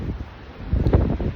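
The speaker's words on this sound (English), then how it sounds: "it's really windy out here, in case you can't tell." Wind buffets the microphone in gusty, rumbling bursts that swell louder toward the end, with no voices.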